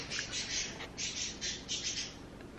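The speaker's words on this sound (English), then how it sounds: "my birds are driving me insane." Pet birds squawk in bursts of harsh, high-pitched calls, several loud cries recurring through the stretch over a steady indoor background, with no talking.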